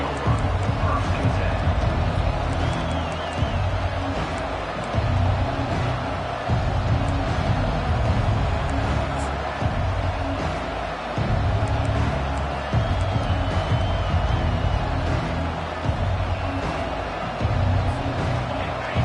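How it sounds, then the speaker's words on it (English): Loud stadium crowd roaring at a college football game, a dense, steady wash of noise lasting throughout with a play-by-play voice talking over it. "This crowd bringing an ear-splitting welcome to their visitors"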